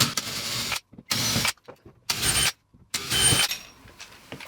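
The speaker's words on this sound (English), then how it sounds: "so I'm just going to pilot drill those holes." A pilot drill bores holes into wood for a TV wall bracket in short bursts, about four whirring runs separated by brief pauses, close and fairly loud.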